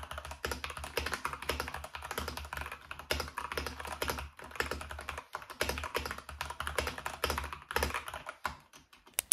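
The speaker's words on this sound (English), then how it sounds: "this is a mechanical keyboard and I believe that I have the 𝚕𝚘𝚧𝚎𝚍 red switches on this keyboard" Typing on a mechanical keyboard fitted with lubed red switches, a quick irregular patter of soft key clacks in bursts with brief pauses, close up and with no talking.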